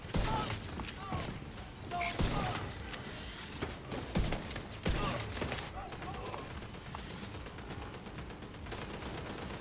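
Automated turrets fire in The Division 2, a dense clatter of repeated shots and mechanical rattling over a busy combat mix. Someone talks over the fire throughout.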